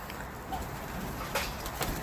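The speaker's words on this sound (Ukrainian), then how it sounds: "Ой, голуби, тут як тут" Soft pigeon coos sound faintly against a busy outdoor background, with a couple of brief, slightly louder calls near the end.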